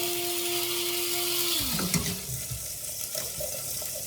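Chopped onion drops into a hot pan and bursts into a loud, continuous sizzle that settles into a steady crackle with light stirring.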